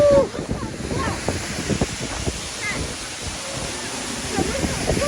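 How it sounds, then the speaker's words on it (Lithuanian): Loud rushing water roars steadily in Iceland, a broad continuous wash with wind buffeting the microphone and occasional voices nearby. "Skambus vanduo."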